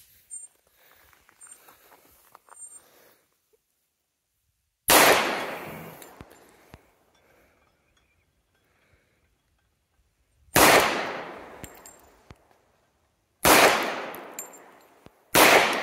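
Kimber Ultra Carry II pistol fired outdoors during malfunction testing, three loud separate gunshots spaced seconds apart, each with a long echoing decay, after a stretch of quiet handling noise.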